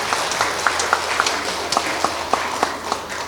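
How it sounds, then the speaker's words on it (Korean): Light, sparse clapping from a church congregation during a Sunday morning worship service, scattered hand claps over a steady room murmur rather than full applause. "박수 한번 쳐주세요."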